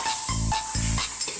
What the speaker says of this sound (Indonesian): Aduk-aduk terus, aduk terus.